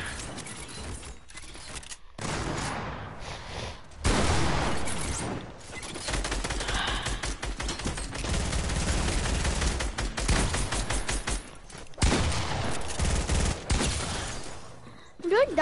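A double shotgun fires in a video game: several sharp gunshot bursts and mechanical clatter scattered through a busy game mix, with players talking now and then.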